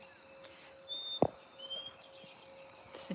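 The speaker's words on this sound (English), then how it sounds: "Listen to those birds." Birds chirping outdoors in calm air before a storm, a few thin high calls and short tweets scattered over a soft background hiss, with one sharper nearby knock or chirp midway, no talking.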